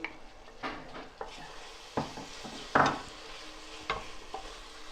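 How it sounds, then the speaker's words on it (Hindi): Ginger garlic paste frying in a pan for a lamb kofta curry, low sizzle under repeated spoon-on-pan stirring knocks and scrapes, close by, with no voices. "अब हम इसमें ऐड करेंगे जिंजर और गार्लिक का पेस्ट। इसको 2 मिनट और फ्राई करेंगे जिंजर गार्लिक के साथ।"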